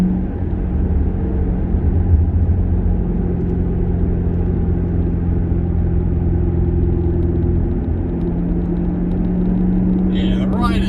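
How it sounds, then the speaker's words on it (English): Supercharger whine from a Ford GT500 while it is driven, a thin steady tone over the low road rumble inside the cabin, with a voice talking over it. "And that blower whine is just so much fun."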